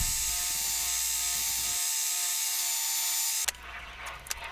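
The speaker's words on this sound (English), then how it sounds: "I'll take those over to the bench sander and shape them and clean them up a little bit" A bench sander hums with a steady whine as pine quarter-inch stock is shaped; the grinding contact cuts out midway, then the tone shifts before a couple of sharp knocks near the end.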